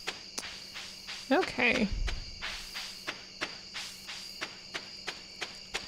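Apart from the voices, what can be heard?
crickets chirping in the video game Stardew Valley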